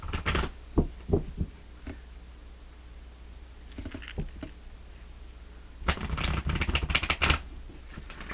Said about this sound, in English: We're going to pull the top card for the full moon in Aries, and then the bottom card will be for the new moon in Scorpio.